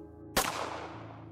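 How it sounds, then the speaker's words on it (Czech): Single sharp gunshot cracks out suddenly, then rings away in a long decaying reverberant tail over a low hum, used as a sound effect in a narrated horror story. "Výstřel mě naprosto ohlušil."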